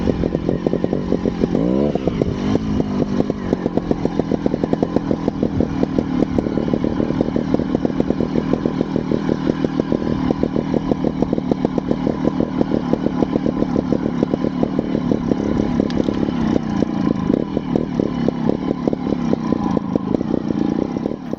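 Scorpa 250 trials motorcycle ridden while warming up, its engine a steady loud, close buzzing drone with rapid firing pulses throughout, briefly revving near the start with no talking.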